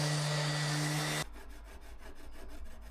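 Wood being sanded with 80 grit sandpaper: a loud machine whine cuts off abruptly, then rhythmic rasping strokes follow, close and repeated at a steady pace.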